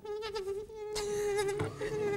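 A person imitates a mosquito with a thin, steady, nasal whine held for a couple of seconds. The buzz is close and fairly loud, with a brief breath and scrape in the middle.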